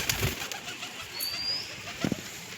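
Soft, low pigeon coos sound close by in a quiet space, a brief call early and a double coo near the end.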